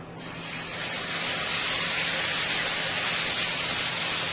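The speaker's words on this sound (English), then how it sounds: "our oil is nice and hot there. Let's go ahead and start with our fish." Fish frying in hot oil in a pan gives a steady, loud sizzle of hissing spatter. It swells quickly after the fish goes in and then holds an even crackle throughout.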